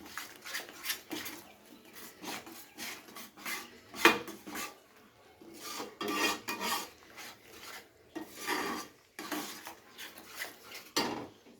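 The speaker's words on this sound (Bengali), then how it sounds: "এবারে সমস্ত মশলাকে খুব ভালো করে কষিয়ে নেব একবার।" Spices for a spicy chicken curry being stirred and scraped in a pan, a steady run of rasping, scraping strokes in irregular bursts, close and fairly quiet, with no voices.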